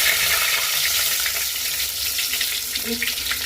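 Bay leaves, mustard seeds and cumin sizzle in hot oil for a sambar tempering, a loud, steady, close frying hiss that barely changes across the few seconds.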